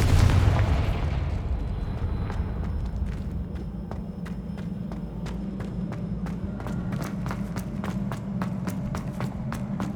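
In the game Hogwarts Legacy, the Confringo spell explodes at once as a loud, booming burst that dies away into a rumbling wash, followed by a regular series of sharp crackling pops.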